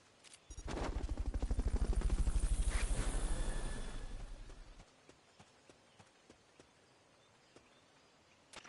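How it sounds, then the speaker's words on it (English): A game sound in Metal Gear Solid: a loud burst of rapid repeated thudding and chopping, like helicopter rotor or gunfire, swells for about four seconds then cuts off, leaving faint background ambience. "Fulton recovery helicopter is complete."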